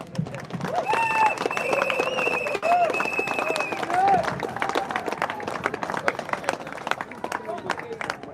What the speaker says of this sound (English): I'd like you all to give him a massive round of applause